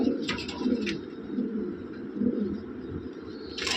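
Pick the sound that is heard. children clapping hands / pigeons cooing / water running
pigeons cooing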